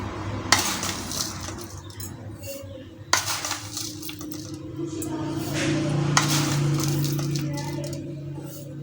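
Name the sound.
spoon mixing sugar into cream in a bowl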